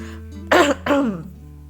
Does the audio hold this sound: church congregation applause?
no